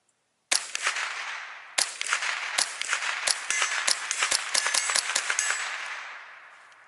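A .22 rifle fires Remington 22 high velocity game load ammunition in a rapid string of about fifteen sharp, close reports, each cracking over a lingering ringing echo that fills the gaps between shots.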